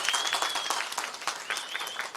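Party members applauding at a DMK political meeting, a steady wash of many hands clapping at moderate distance throughout, with a thin whistle-like tone drifting over the crowd.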